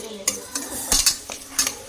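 Onions and salt scraped and stirred in a pan while slowly browning for a village-style crab curry, with a few distinct clinks and scrapes of the spoon over a faint sizzle.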